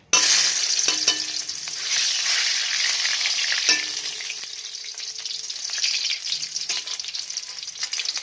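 Chopped garlic dropped into hot white oil in a wok bursts into a loud, close sizzle, then settles into continuous frying with a few stirring clinks, easing slightly toward the end.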